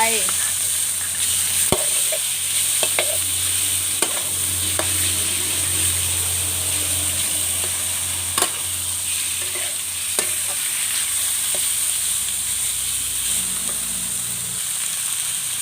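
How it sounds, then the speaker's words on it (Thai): Pork belly sizzles in hot lard in a wok for a Thai ginger stir-fry, a loud steady frying hiss with occasional sharp pops and stirring scrapes, close to the microphone. "เจียวให้เหลืองดีนะคะแล้วก็ใส่หมูลงไป"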